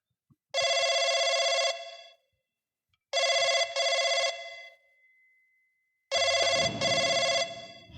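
A telephone rings loudly in three bursts separated by silences, the last overlapping a low rumble.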